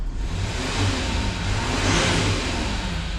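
Range Rover Sport engine, one with restricted-performance fault codes, revved a couple of times, a steady close mid-pitched roar that swells twice with no voices.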